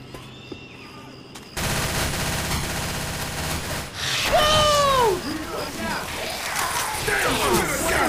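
Rapid automatic gunfire from the video game Left 4 Dead 2 rattles loudly and continuously in a swamp level, mixed with game effects, growls and swooping sounds, while players shout over it.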